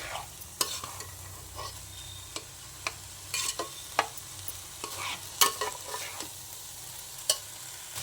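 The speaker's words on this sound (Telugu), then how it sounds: "ఇలా ఒక 5 నిమిషాలు ఈ వాటర్ అంతా ఇరిపోయేదాకా కలుపుకున్నాము" Bagara rice being stirred in a pot, made with loose basmati rice while the water cooks off: irregular scraping and clinking strokes of a spoon against the pot over a soft sizzle, close and alone.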